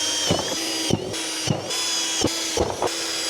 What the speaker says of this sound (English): just put it on your mark and drill through the hole.